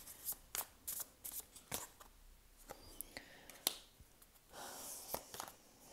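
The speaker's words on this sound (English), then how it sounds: "I feel really guided just to pull another couple of cards for you." Tarot cards are shuffled and drawn close by in a quiet room, giving a series of soft, crisp riffles and snapping flicks in uneven bursts with no voice over them.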